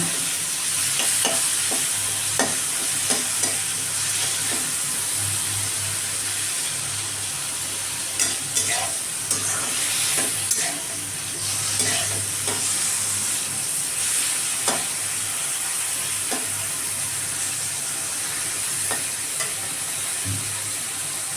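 Mushroom and capsicum pieces fry in oil with a steady hiss and sizzle. Repeated clinks and scrapes come from a spoon stirring the pan, and no one speaks.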